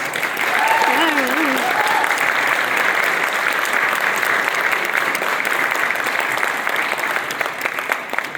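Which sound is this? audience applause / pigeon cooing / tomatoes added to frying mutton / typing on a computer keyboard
audience applause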